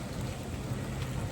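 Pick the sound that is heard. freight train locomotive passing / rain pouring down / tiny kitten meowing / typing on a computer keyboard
rain pouring down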